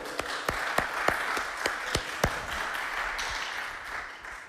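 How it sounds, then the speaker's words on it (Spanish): A congregation at a Sunday church service claps together in a steady wash of welcoming applause, with a few sharper individual claps standing out near the front. "queremos darles una bienvenida con un aplauso"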